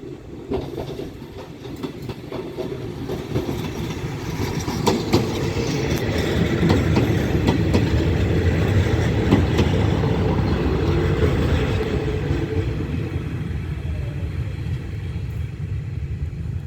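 THN diesel railcars 1121 and 1140 roll along the rails, a loud continuous low rumble with rhythmic clickety-clack of wheels over joints, swelling slightly in the middle and staying steady to the end.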